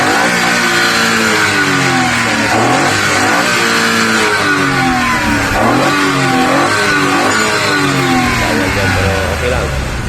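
A Suzuki DA17V 4x4 manual van's engine revs up and down repeatedly, loud and close, with rising and falling pitch throughout and voices talking over it.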